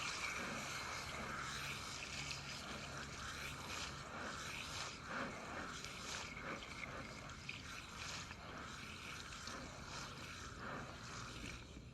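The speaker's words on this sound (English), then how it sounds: "First thing you're going to want to do is rinse your rim down." Water sprays steadily onto a car wheel rim during rinsing, a continuous, fairly faint hiss and splatter with no breaks and no voices.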